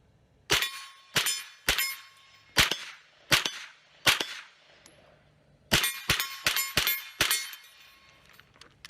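Pistol shots fired with a laser-sighted handgun, roughly a dozen sharp cracks in two bursts with a pause between, each loud and close with a brief ringing tail, no talking.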